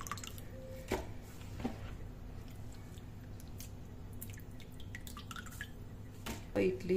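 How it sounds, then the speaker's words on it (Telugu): Soaked idli rava is drained of water and squeezed by hand, giving soft wet squishes and faint drips, quiet and close, with occasional kitchen clatter. "ఇప్పుడు ఈ నీళ్ళని వంపేసేసుకొని ఈ రవ్వను ఇలా పిండి వేసుకోవాలి."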